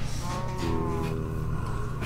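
A cow moos in the Minecraft video game, one drawn-out low lowing call that sounds close and clear, with no talking over it.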